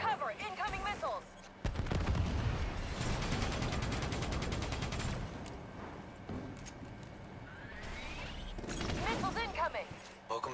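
Incoming missiles and gunfire in Call of Duty Black Ops 3 erupt in dense bursts of loud crackling fire and booming impacts, with voices shouting over the sustained battle noise and a rising whistle streaking through midway.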